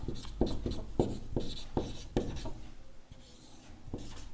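The Pythagoras theorem formula is written on a board in a steady series of short, scratchy strokes, close and alone with no talk.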